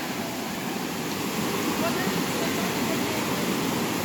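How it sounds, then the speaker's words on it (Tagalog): Steady, dense rush of falling water at Gabur Gabur Falls, loud and continuous throughout with no breaks, heard close to the waterfall. "Yung tunog pa lang ng tubig."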